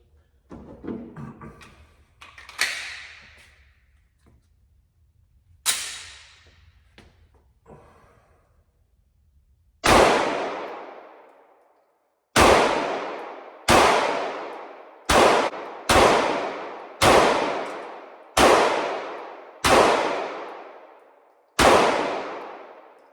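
A Sig Sauer P229 pistol fires about a dozen loud, sharp shots. They start irregularly and then come in a steady, evenly spaced string, each crack ringing out briefly before the next.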